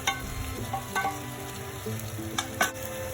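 Tofu cubes and vegetables sizzle steadily in a hot pan over medium heat, with a few light clinks and scrapes of stirring breaking through the frying hiss.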